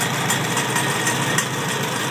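A 1964 Farmall 140 tractor with a Zenith carburetor, its engine running smoothly at a steady idle, close, loud and continuous with no talk.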